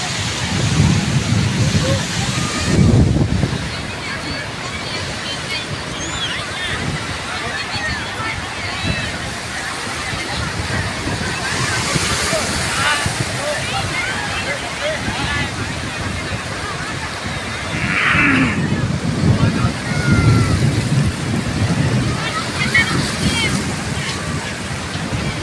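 Sea waves wash in and draw back at Dumas Beach in Surat, a broad hiss of surf with surges every several seconds, voices talking over it now and then.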